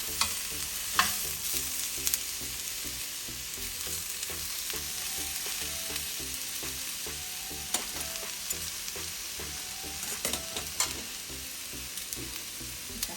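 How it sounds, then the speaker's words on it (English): Pieces of doner kebab meat fry in oil in a pan over high flame, a steady close sizzle with occasional crackles and stirring taps, no voices. "we're gonna put few in at a time in the pan and fry them for a few minutes just to get the color"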